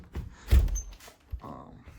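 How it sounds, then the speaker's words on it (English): A clear glass door opens into a house during a real estate showing, giving a couple of soft thuds and brief rattles close by with no talking. "And we walk into this weird clear door."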